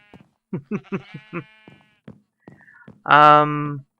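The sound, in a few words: sheep bleating in the video game Minecraft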